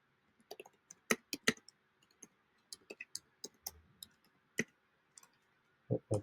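Keys on a computer keyboard tapped in short, irregular bursts of sharp clicks with pauses between them, close and fairly quiet, with no voices.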